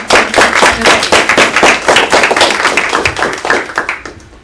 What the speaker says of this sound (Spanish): un aplauso para que ella se anime